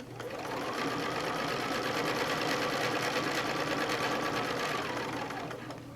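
A domestic sewing machine stitches along a quilting ruler, giving off a steady, close, mechanical whir. The motor ramps up, runs evenly for about five seconds, then winds down, with no talking.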